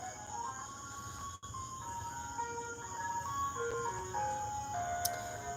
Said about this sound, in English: I know it's like 9 o'clock at night and there's an ice cream truck.